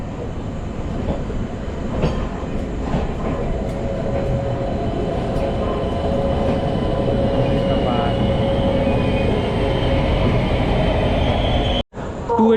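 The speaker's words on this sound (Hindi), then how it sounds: "अब हमारी ट्रेन पहुंच चुकी है मधुपुर रेलवे स्टेशन" Amrit Bharat Express rolling into Madhupur railway station, a steady loud rumble of carriages and rails running throughout before a brief drop near the end, with faint voices in the background.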